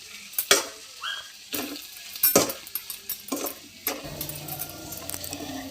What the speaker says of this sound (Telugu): ఈ పొడిని కూడా చిక్కడకాయ ఫ్రైలోకి వేద్దాం. మళ్ళీ ఒకసారి బాగా అంతా మిక్స్ చేసుకుందాం.